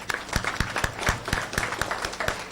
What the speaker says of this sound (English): Let us give a big claps for her.